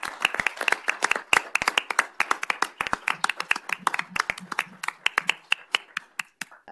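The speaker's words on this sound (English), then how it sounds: "Would you stand so we can applaud you?" A small audience at a city council work session applauds: many distinct, crisp hand claps in a loose, uneven rhythm, fairly close and moderately loud, fading toward the end.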